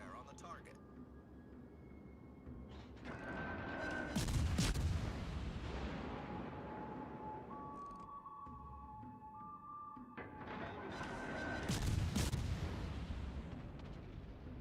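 Warship main guns in World of Warships: Legends fire two heavy booming salvos several seconds apart, each followed by a rumbling tail, under continuous battle ambience and a voice talking.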